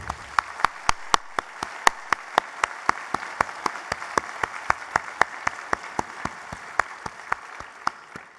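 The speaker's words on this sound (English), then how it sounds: "please join me in giving them all a round of applause" An audience at a commercial management leadership breakfast claps steadily at an even pace, sharp claps repeating in a regular rhythm for several seconds.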